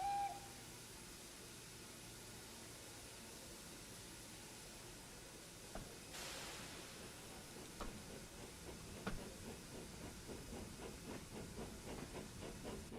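A toy steam engine on a Sodor-themed railway begins to pull away, a faint hiss that gives way to soft, irregular chuffs and clicks as it starts moving, quiet and alone.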